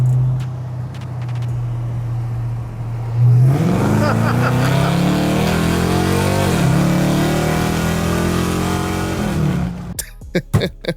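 A Dodge Charger Daytona EV accelerates hard while racing another car: a steady low hum swells into a loud, close, wavering synthetic engine roar that climbs in pitch for several seconds, then cuts off into a few sharp knocks.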